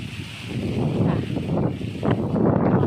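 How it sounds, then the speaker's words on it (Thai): Strong wind gusting across the microphone at a temple, a continuous rushing roar that swells and dips in waves, loud and close with no voices. "ลมก็แรงแรง"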